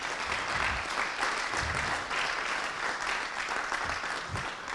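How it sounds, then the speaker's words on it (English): Applause from an audience at the close of a lightning talk, a steady dense wash of many hands clapping at moderate level, with no voices over it. "thank you for the applause"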